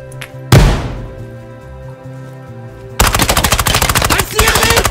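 A flashbang detonates in the tactical shooter Ground Branch with a sharp, loud bang that rings out and decays, followed a couple of seconds later by a rapid burst of automatic gunfire.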